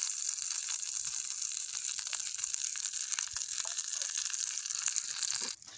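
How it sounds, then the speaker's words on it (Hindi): Ghee heats in a pan set over a burning wood fire, giving a steady, close hiss and crackle of hot fat that runs without a break and ends abruptly. "हमने अपना पैन रख दिया है, इसमें घी जो है गर्म हो रहा है"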